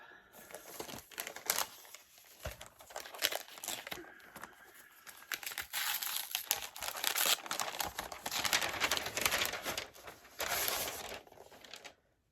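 Plain black paper envelope being opened up close, a run of crinkling, tearing and rustling paper bursts with short pauses between, loud and near with no voices.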